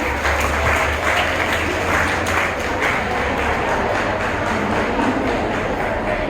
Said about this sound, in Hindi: बच्चों, तालियों के साथ मैम का स्वागत कीजिए।